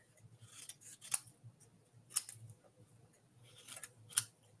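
Scissors cutting a paper stencil for a butterfly craft, three crisp close snips about a second apart with soft paper rustle and shearing between them.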